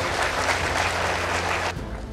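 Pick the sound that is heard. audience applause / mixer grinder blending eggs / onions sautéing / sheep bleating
audience applause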